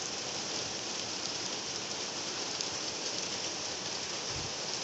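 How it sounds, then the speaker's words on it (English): Heavy rain pours steadily during an intense thunderstorm over Woking town, a dense, constant hiss that stays even and close throughout, with no distinct thunder clap standing out. "We've got the heavy rain, thundery rain at least."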